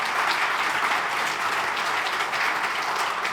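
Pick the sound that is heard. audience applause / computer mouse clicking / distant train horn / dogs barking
audience applause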